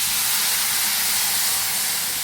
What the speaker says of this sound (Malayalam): അതിലേക്ക് നമ്മൾ വിനാഗിരി ഒഴിച്ച് കൊടുക്കണം കേട്ടോ.